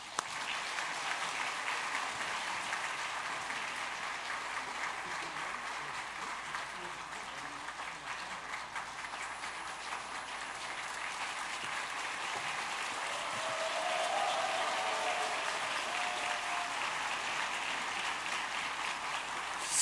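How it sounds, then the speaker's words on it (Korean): A church congregation at a Sunday afternoon service claps in warm welcome for a guest preacher, sustained dense applause filling the hall for the whole stretch, swelling slightly toward the end. "이제 하나님께서 보내주신 귀한 강사님을 뜨거운 환영의 박수로 모시도록 하겠습니다"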